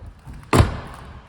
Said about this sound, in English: Opening the tailgate reveals a nice clean boot area